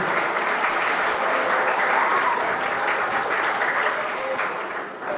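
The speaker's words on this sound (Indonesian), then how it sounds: "Kasih tepuk tangan" Dense, continuous clapping from a crowd of congregants and students at an Islamic boarding school gathering, loud and even throughout before thinning slightly at the very end.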